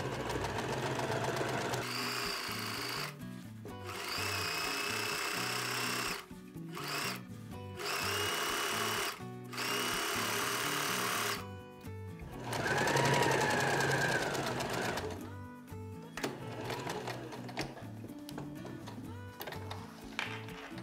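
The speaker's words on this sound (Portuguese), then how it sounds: "E costuro bem em cima da linha que eu marquei com o giz do meu molde." A sewing machine runs in bursts while stitching a skirt seam along a chalk-marked line, with backstitching at the start and end; loud, close whirring runs stop and restart several times across the stretch, with short pauses between.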